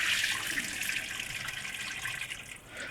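Water runs from a kitchen tap into a pot as it is drained and refilled with cold water, a steady splashing gush at moderate distance that thins slightly near the end.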